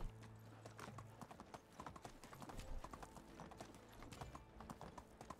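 Steady clip-clop of horse hooves trotting close by in the video game Medieval Dynasty, continuous and rhythmic, with a busy background of clatter and faint ambient noise.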